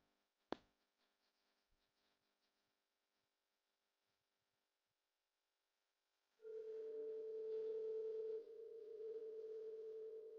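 A single click, then quiet, then a steady telephone ringing tone starts and holds, slightly changing partway through.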